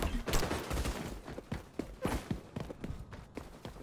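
Rapid bursts of gunfire with incendiary rounds in the shooter game XDefiant, sharp irregular shots in quick clusters, loud and close, with no speech.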